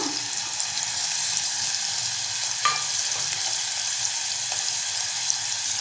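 Green chilli pieces and curry leaves fry in a pan with chopped onion, a loud continuous sizzle and hiss up close with a few sharp crackles and pops, no speech.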